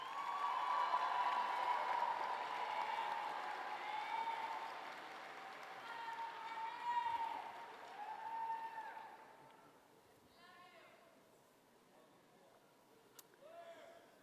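A large audience at a spring bachelor's graduation ceremony gives sustained applause and some cheering for the graduates' supporters, loud at first and then gradually thinning out.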